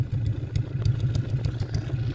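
An old Suzuki Carry Extra minibus engine idles steadily, its exhaust putting out a close, low, even throbbing with a light rhythmic ticking on top and no talk.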